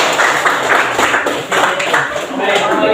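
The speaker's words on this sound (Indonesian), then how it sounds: "beri tepuk tangan dulu untuk kelompok 4" A presenting school group in a classroom gets applause, with steady clapping from many hands that runs dense and fairly loud throughout, mixed with a murmur of voices.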